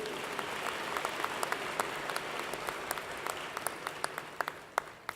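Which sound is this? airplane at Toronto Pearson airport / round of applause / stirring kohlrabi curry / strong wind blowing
round of applause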